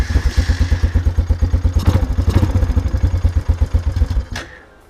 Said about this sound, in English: Now that I've given that a couple of pumps, if the battery's any good, this quad will likely start.